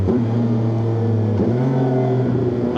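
Triumph 675SR motorcycle engine revving hard and loud up close, with steady harmonic engine tones broken by quick quickshifter gear changes near 1.4 and 2.3 seconds, each shift marked by a brief dip and pop.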